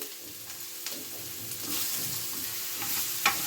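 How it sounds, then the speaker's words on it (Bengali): Beetroot with garlic and green chilli fries in hot oil, a close, continuous sizzle punctuated by scraping stirs and a few sharp spatula clicks, with no talking. "এইবারে বিটটাকে ভালো করে এই তেলের মধ্যে ভাজা ভাজা করতে হবে।"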